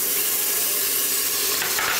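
Minced garlic sizzles steadily in hot bacon grease in a pan, a dense continuous frying hiss, close and fairly loud, with a slight stirring scrape near the end.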